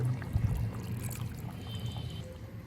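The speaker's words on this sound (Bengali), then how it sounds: "আর অল্প একটু জল দিলাম" Water is poured into a simmering katla fish curry with potatoes: a soft, brief splash and trickle at the start, then a low, steady hum from the pot.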